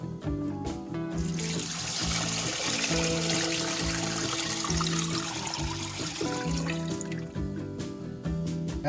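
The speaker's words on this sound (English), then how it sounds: "Add 4 liters of water." Water pours into a stock pot holding roasted beef bones and meat, a steady splashing gush that starts after a second and runs for several seconds before tapering, close and clear.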